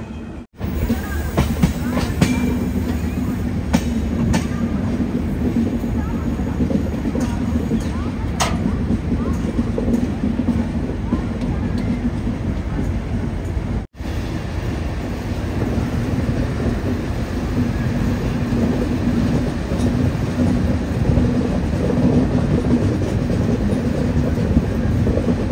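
A Humsafar Express train picks up speed and runs into a curve, giving a steady, loud rolling rumble with scattered wheel clicks and squeals. One brief dropout interrupts it midway.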